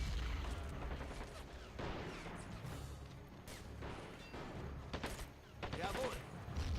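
A squad opens fire in Men of War: Assault Squad 2, producing a fusillade of gunshots, crashes and booms that recur across the clip, with voices talking over the battle.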